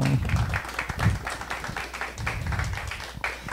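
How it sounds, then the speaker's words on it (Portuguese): At a startup pitch event, the audience claps for a finalist. The clapping is moderate and scattered and rises and falls in uneven waves, with a low rumbling background underneath. "Palmas para ele, gente."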